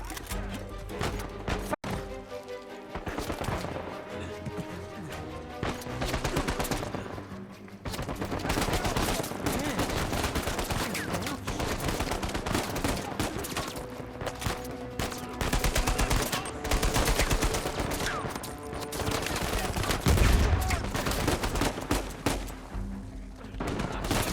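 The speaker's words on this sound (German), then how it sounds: "Schüsse." Dense, continuous bursts of rapid gunfire crackle almost nonstop, loud and close, with a busy background of effects from the video game Uncharted 4 and no talking.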